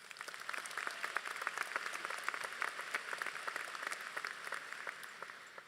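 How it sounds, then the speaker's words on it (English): Quiet round of applause for the faculty at a high school graduation ceremony, many distinct hand claps rattling evenly through a large crowd, somewhat distant and sustained. "Let's give them another round of applause."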